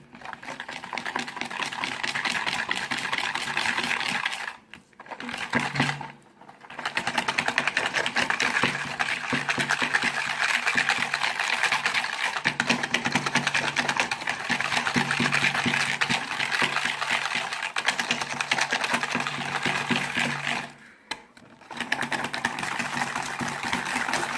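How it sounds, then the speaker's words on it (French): A whisk or mixer beats Nutella cake batter vigorously in a bowl, a dense, steady whirring churn that drops out briefly twice before carrying on at full strength. "N'hésitez pas à mélanger énergiquement."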